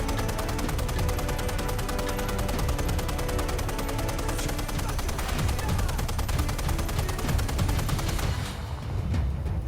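An M2 heavy machine gun fires a long sustained burst of rapid, evenly spaced shots, loud and close, under a faint voice, tapering off at the end.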